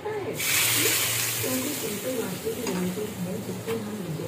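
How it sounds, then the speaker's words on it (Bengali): Vegetables for shukto fry and get stirred in a pan, a soft hiss of sizzling oil with occasional scrapes, fairly quiet, while someone talks over it for most of the time. "ভালো করে নাড়াচাড়া করতে হবে।"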